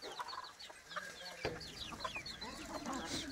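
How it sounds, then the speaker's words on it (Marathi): A pure native village rooster of the quality type, kept at a farm yard, clucks in a quick string of short calls, close and fairly loud over a dense background of other birds. "तर असा हा क्वालिटीचा कोंबडा आहे."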